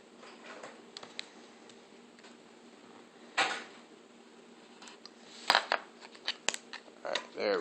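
Scissors cut around a SIM card adapter in close, faint snips and clicks, scattered irregularly over a quiet background with a few sharper cuts toward the end.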